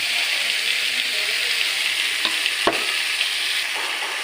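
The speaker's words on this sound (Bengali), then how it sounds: "এবার আমি এর মধ্যে দেব কেটে রাখা আলু, আলুগুলো দিয়ে বেশ ভালো করে ভাজবো।" Cut potatoes fry in hot oil in a pan, giving a steady loud sizzle throughout, with a couple of brief clicks from stirring partway through.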